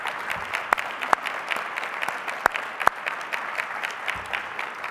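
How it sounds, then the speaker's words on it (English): A round of applause for county directors at a state of the county address, steady medium-density clapping from an audience with a few sharper, closer claps standing out. "please rise so we can give you a round of applause as well."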